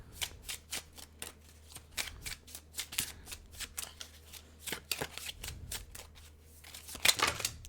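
Tarot cards being shuffled and pulled, with repeated crisp riffling bursts and flicks in an irregular rhythm, close and fairly quiet, with no talking.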